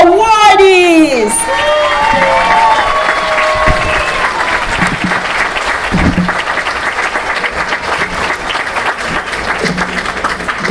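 Fourth-grade gold awardees at a Battlehill school ceremony receive loud, steady applause from a crowd of children and adults. It starts under a brief burst of voices and shouting, then keeps going at full strength.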